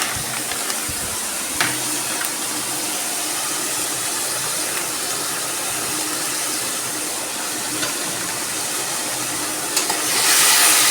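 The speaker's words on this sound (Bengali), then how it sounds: "যতক্ষণ না মশলা দিয়ে তেল বেরোবে ততক্ষণ কষিয়েই যেতে হবে।" Spice paste with chili powder stir-fried in hot oil for a pabda fish curry gives a steady, close sizzling hiss, with occasional spatula scrapes and a brief louder flare of sputtering near the end.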